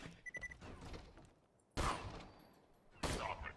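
A sniper rifle in Borderlands 2 fires two loud, sharp shots about a second apart, each followed by a short decaying tail, with quieter noise in between.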